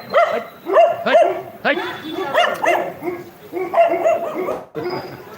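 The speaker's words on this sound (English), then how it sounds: "The dogs are barking." Several dogs bark and yip in repeated bursts close by, over a voice talking, during an outdoor live stream.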